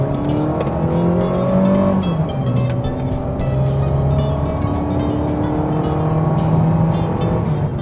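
A 2019 Mitsubishi Xpander Sport accelerating on kick-down, heard from inside, its engine rising in pitch, dipping at a gear change, then climbing steadily again over road noise.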